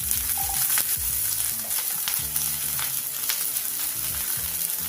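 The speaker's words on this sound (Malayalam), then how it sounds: "ഇതിലേക്ക് നമ്മൾ അരിഞ്ഞെടുത്ത് വെച്ചിരിക്കുന്ന ഉള്ളി ഇട്ട് കൊടുക്കാം." Chopped onions hitting hot oil with dried chillies and curry leaves for a Kerala chicken thoran, giving a steady, close sizzle with scraping stirs and clanks over a constant frying hiss.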